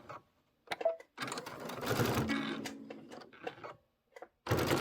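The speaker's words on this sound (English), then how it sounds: "give it a little back stitch right here too" A sewing machine stitching a short back stitch on a pillow project, a few bursts of rapid mechanical whirring with pauses between, close and moderately loud.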